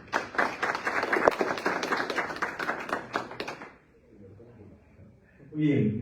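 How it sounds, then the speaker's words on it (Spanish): Loud, close clapping welcomes a doctor representing a political group at a public candidates' event. The crisp, rapid claps run for under four seconds and then stop abruptly, followed by a quiet pause before a voice begins speaking. "aquí lo recibo con fuertes aplausos también al doctor"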